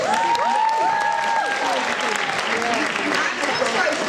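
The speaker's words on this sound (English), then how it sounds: "So I think another round of applause." An audience claps continuously at a speaking event, giving a sustained, full round of applause with a few cheering voices rising over it.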